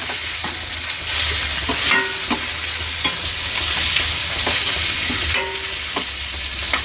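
Goat offal frying in oil for a Bonalu festival curry, a steady close sizzle running throughout with repeated scraping and clinking of a spatula stirring the pan.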